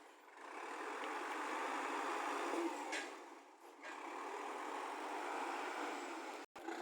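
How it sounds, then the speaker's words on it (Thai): A farm tractor pushes another vehicle through a narrow village lane, its engine a steady, fairly close drone with slight rises and dips. "ต้องใช้รถไถดันตามตลอดเลย"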